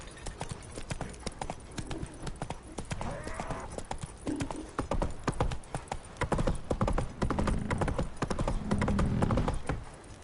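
Hooves of Geralt's horse Roach galloping in The Witcher 3, a steady rapid clip-clop running throughout, fairly loud, with brief voice fragments and game sounds mixed in.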